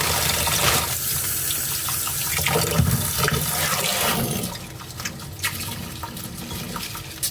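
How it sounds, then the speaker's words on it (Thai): Clean tap water runs steadily into a sink for rinsing and washing, loud and continuous, easing slightly near the end with small splashes and clinks. "เราจะต้องล้างสองรอบ แต่ว่าน้ำใสแจ๋วเลยอะน้ำที่สะอาดมากเลย"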